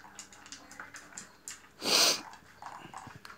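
A one-year-old dog, a shepherd cross, eats food at night outdoors, with close, irregular chewing, crunching and sniffing sounds, one brief louder snort-like burst in the middle.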